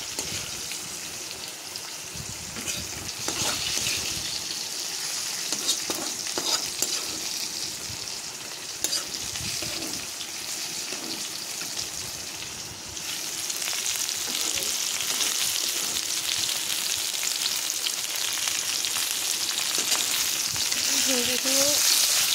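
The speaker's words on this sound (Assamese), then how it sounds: "ভিন্দিখিনিও ফ্ৰাই হৈছে আৰু অলপ হ'বলৈ আছে" Lady finger okra frying in hot oil, a steady crackling sizzle running the whole time with occasional stirring scrapes, growing slightly louder toward the end.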